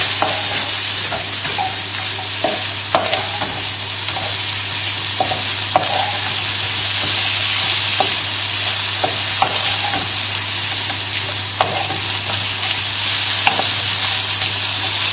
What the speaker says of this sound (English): give everything a good stir so that the mushrooms get nicely coated with the oil